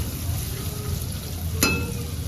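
Homemade noodles fry in hot oil in a large wok, giving a continuous close sizzle with a brief sharp clink of a utensil against the pan partway through.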